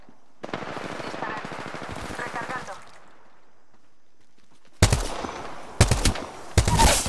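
Three short, loud bursts of automatic gunfire in Apex Legends come after a stretch of clear speech and a silent pause, each burst abrupt and close, the last one trailing off.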